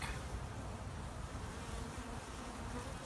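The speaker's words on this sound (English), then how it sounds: "you can see the bees are coming and going and doing their work" Dense, steady buzzing of many honeybees flying at a hive entrance, a continuous droning swarm close by with no pauses.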